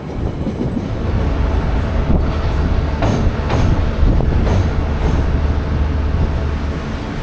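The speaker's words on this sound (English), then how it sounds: "The train departs on time, and soon we are out in the country area of the South Island." A passenger train rumbles steadily along the tracks through countryside on New Zealand's South Island, with a low, constant roar and occasional faint clicks and squeaks from the wheels.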